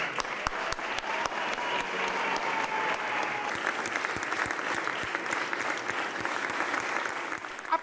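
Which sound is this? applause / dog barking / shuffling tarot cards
applause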